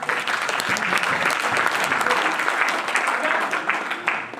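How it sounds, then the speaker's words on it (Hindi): An audience at a wellness business seminar breaks into loud, sustained applause, a thick wash of clapping that holds steady throughout. "एक जोरदार ताली"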